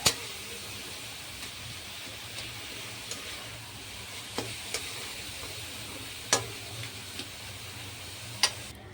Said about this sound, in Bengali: আমি গ্যাসটা চালু করে নিয়েছি, এবার এটাকে ভালো করে নেড়ে নেড়ে ছইটা বানিয়ে নেব।